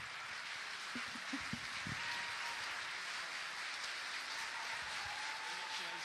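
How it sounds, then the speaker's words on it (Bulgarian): A hall audience applauds the evening's winner at a Bulgarian award ceremony, a dense and steady wash of clapping that stays loud throughout, with faint voices underneath. "Дами и господа, моля вашите аплодисменти"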